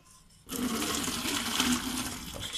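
Hot water from boiled jumbo sausages poured off to drain, a sudden steady close splashing rush that starts after a brief quiet moment and runs on to the end.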